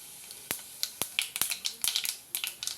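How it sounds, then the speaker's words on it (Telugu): Mustard seeds and cumin sizzle in hot oil for a korameenu fish dish, giving sharp, irregular close pops and crackles over a faint hiss. "ఆవాలు జీలకర్ర వేగాయి"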